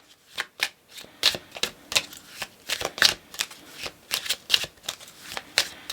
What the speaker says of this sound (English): So I just shuffled, and the bottom of the deck is the soulmates.